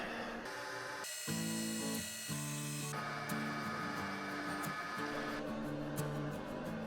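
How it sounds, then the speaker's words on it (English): A Bridgeport milling machine whirs with steady high-pitched tonal whine, shifting pitch in stages as the cutter drills a hole into metal, with no voices. "Now I'm using a Bridgeport milling machine, which definitely makes things easier"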